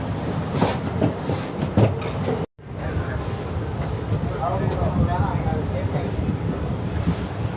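Boat Mail Express train rolling into Tambaram station near Chennai, a continuous loud rumble and rattle of wheels with a brief cutout, under a voice talking.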